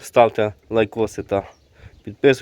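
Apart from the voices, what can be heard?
No everyday noise stands out behind the speech.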